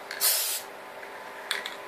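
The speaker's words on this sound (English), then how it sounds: "you would have to tilt your hand in such a manner so that the paint spray is at about 90 degrees to the surface" A paint spray gun applying Blaze Blue paint to a laptop cover: a loud, close hiss of about a third of a second, then quieter short spurts near the end.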